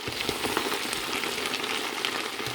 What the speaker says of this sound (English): Alright, so we got our potatoes and our leeks in here. So we're going to get these stirred up in here.